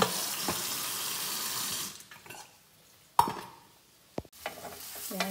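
Vegetables for a mackerel, broccoli, green bean and cherry tomato dish rinsed under a running kitchen tap: a steady rush of water for about two seconds, then it cuts off, leaving a few sharp clinks and light handling noises.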